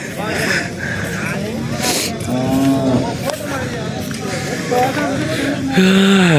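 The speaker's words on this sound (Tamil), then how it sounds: "இங்க ஒரு காளை நிற்கிறான், போய் பார்க்கலாம் வாங்க." Cattle moo loudly several times amid a busy, noisy outdoor background at a temple chariot festival in Anthiyur, with a deep drawn-out low at the very end.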